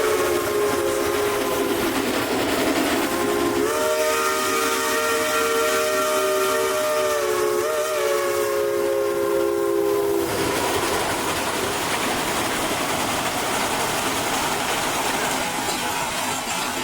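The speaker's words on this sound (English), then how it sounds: "the first video is going to show a couple shays backing up" Several Shay geared steam locomotives backing up during a parade of steam at Cass, with a sustained multi-tone steam whistle blowing for several seconds over continuous loud hissing steam and rumbling machinery.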